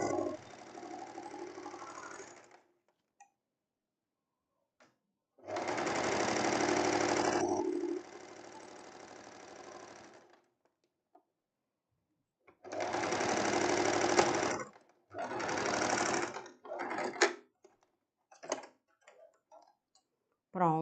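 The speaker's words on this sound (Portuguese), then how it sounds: "Vamos costurar logo do outro lado" Sewing machine stitching a 1 cm seam on a summer tank top with lining, running in several bursts of a few seconds each, separated by pauses and brief handling clicks.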